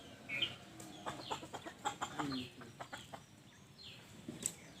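Two caged quail give short chirping and clucking calls, several quick notes in a loose burst near the middle, fairly faint against a quiet indoor background with no talking.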